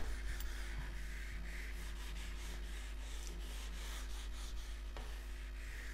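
Writing being rubbed off a classroom board, a continuous soft scrubbing with rhythmic back-and-forth strokes under a constant low hum, with no voices.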